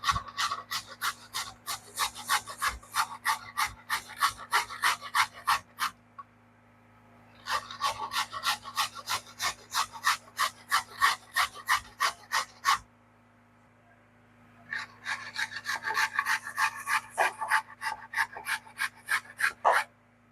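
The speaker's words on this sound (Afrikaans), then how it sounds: "Ek gaan hom met my fynkant van my rasper." A peeled carrot is rubbed on the fine side of a grater in three long runs of quick, rhythmic rasping strokes, close and fairly loud, over a constant low hum.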